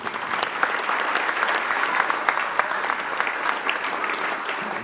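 An audience at a mayor's New Year reception applauds, a dense, sustained clapping from many hands that stays loud and even across the whole stretch, with no voices standing out.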